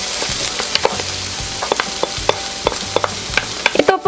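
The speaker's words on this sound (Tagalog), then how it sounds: "pagka mainit na po yung ating mantika, ay pwede na po nating igisa itong ating bawang." A whole head's worth of garlic sautés in hot cooking oil for a lansiao soup, giving a steady close sizzle broken by scattered sharp clicks and scrapes of stirring.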